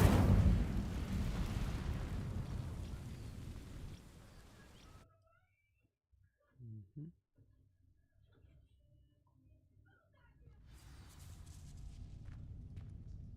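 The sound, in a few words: Incendio fire spell igniting dry vines, from a video game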